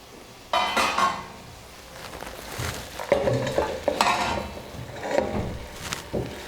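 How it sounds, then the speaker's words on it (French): Spinach leaves drop into a hot saucepan with a soft sizzle and rustle, followed by light stirring and occasional clinks of a utensil against metal. "je vais mettre les épinards dans la casserole, les feuilles d'épinards au-dessus"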